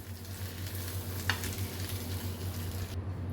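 Urad dal, chana dal and curry leaves are stirred in a hot pan for palak keerai chutney: a steady, moderately loud sizzle of frying with soft scraping from the spoon, close by, and one brief sharper clink partway through.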